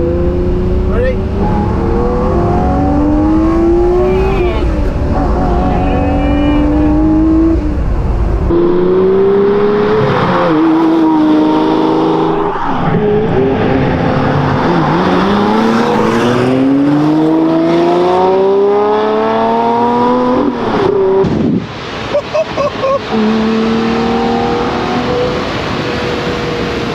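A Lamborghini Murcielago Roadster with a V12 and a gated six-speed manual accelerates hard, its engine climbing loudly through the gears in repeated surging pulls with brief dips at each shift, close and dominant, with excited voices breaking in now and then.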